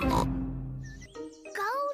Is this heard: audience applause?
no